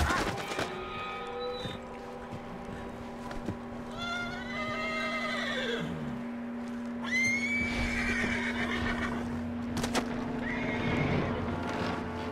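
A horse in Red Dead Redemption 2 whinnies several times in shrill, wavering calls, with hooves clopping and a steady low hum running underneath.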